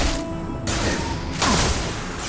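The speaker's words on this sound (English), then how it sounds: "Firing a high-impact shot!" A high-impact gunshot fired in the sci-fi shooter Mass Effect 2, landing as a loud broadband crash with a booming low thud, followed by a second heavy blast amid ongoing combat noise.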